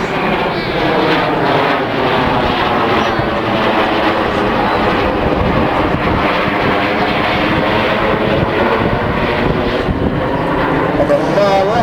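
Red Arrows jets roar overhead while flying the shuttle roll manoeuvre, a loud, sustained engine drone that swells and shifts in pitch, with a voice talking over it.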